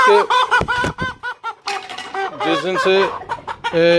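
A Shamo hen clucks repeatedly up close in a rapid, choppy run of loud calls, with other chicken sounds mixed in.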